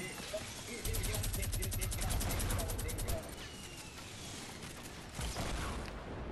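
Rapid automatic gunfire in the Fortnite video game, a fast even burst of shots lasting a couple of seconds, then scattered single shots and mechanical clicks, with a player talking faintly underneath.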